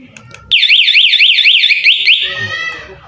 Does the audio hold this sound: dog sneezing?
no